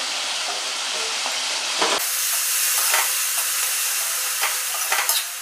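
Spinach sizzles and hisses in a hot wok, with a sharp burst of steam as the leaves hit the oil, followed by steady frying with light stirring scrapes and no talking.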